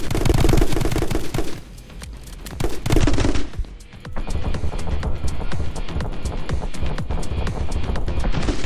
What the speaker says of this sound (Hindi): मुझे कितनी ज्यादा गोलियां पड़ रही हैं।